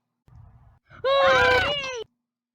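A single drawn-out, high-pitched wailing scream, loud and strained, following a brief low rumble of background noise.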